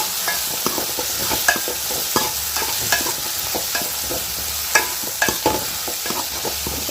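Brinjal sautéing in a hot pan: a constant loud sizzle with a steady rhythm of spatula scrapes and stirring knocks throughout, close up.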